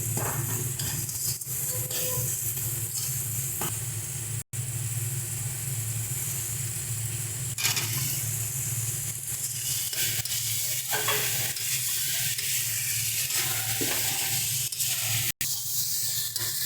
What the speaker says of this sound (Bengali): এর মধ্যে আমরা সিদ্ধ করে রাখা আলুটা দিয়ে দিচ্ছি